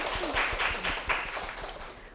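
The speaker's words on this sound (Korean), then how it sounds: "박수 한번 치고 갈까요?" Audience clapping at a lecture show, a moderate burst of many hands with some distinct rhythmic claps near the start, fading slightly toward the end.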